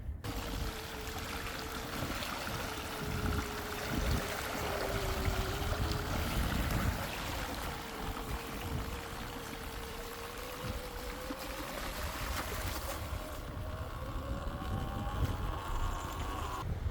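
A dirt bike plows through water on a trail, a steady rush of churning, splashing water with a continuous engine drone whose pitch wavers and rises, close and loud throughout.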